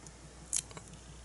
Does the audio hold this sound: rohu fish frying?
no